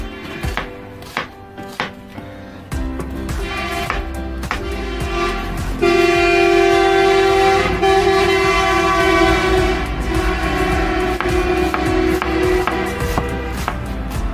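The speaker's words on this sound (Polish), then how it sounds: "Chyba jedzie wesele, no bo trąbią." A few light knocks, then several wedding procession car horns blare in long, overlapping blasts that continue loudly outdoors.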